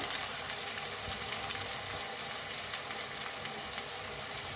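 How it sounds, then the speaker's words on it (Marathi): Peas, capsicum and cabbage roast in a pan with a steady, continuous sizzle, soft and close, with faint stirring scrapes and no voices. "ह्याच्यातच वटाणे बी भाजून घेऊया। शिमला मिरची, कोबी बी भाजून घेऊया"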